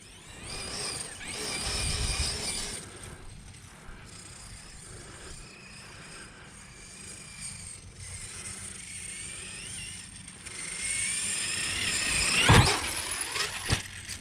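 A Losi DBXLE 8S RC car bashing around a park, its motor a faint, distant whine that rises and falls, building to a louder surge and a sharp burst near the end.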